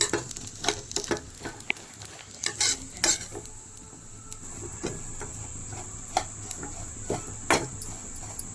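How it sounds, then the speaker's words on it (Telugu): Semiya vermicelli frying and being stirred in a pan for payasam, with a steady sizzle under repeated scraping strokes and clinks of a spoon against the pan, close and fairly loud. "ఇప్పుడు కాస్త సేమియా కూడా దూరగా వేయించుకుందాం. ఇది గోల్డెన్ కలర్ వరకు వేయించుకుందాం."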